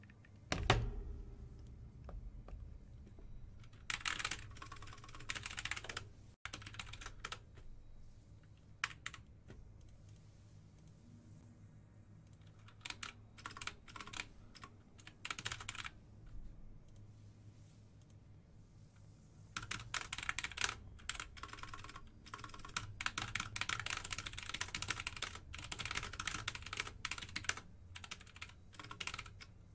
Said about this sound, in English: those typing sounds you heard